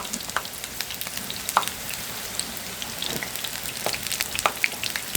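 Water lily and flower chops frying in oil in a home kitchen, giving a steady crackling sizzle with scattered sharper pops throughout, heard alone without talk.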